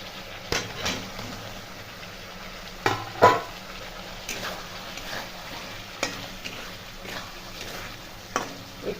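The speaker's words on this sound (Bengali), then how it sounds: "এতে আমি ভেজে রাখা আলুটা দিয়ে দেবো" Fried potatoes go into spiced masala and hot oil in a pan, with a soft sizzle under repeated scraping stir strokes and occasional louder knocks of a spoon against the pan.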